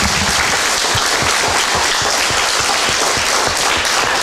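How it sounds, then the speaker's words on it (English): A crowd claps and cheers in sustained applause at a school event recognizing student athletes, loud and continuous throughout, with no voices standing out. "One more round of applause, please"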